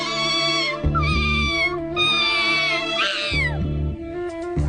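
A cartoon kitten meows repeatedly in long, high, wavering cries, loud and close, with a brief pause between calls and a music-like tonal bed running underneath.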